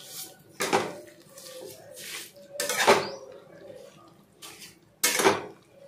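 Carrot halwa with condensed milk is worked in a pan at home, a spoon scraping and clanking against the metal in four or five separate bursts with quiet gaps between them.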